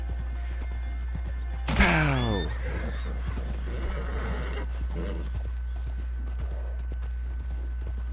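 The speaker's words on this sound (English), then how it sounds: "Get that ugly horse out of here before I shoot it." A horse in a video game neighs once with a loud descending whinny, then faint hoof clip-clops under steady game background hum.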